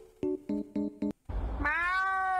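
A person's voice imitates a cat, a few short rhythmic bursts followed by one drawn-out, rising, nasal meow, fairly loud and close.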